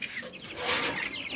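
Chickens cluck softly in a short burst of several close, rising calls, with no talking over them.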